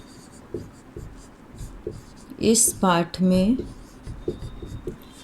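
A teacher writing out an answer during a Hindi class, steady scratchy strokes of writing running throughout, close, with a short burst of her speaking in the middle.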